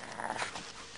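Dogs outdoors in snow give a short, close, agitated vocal sound, a brief growl-like whine with rough breathy texture.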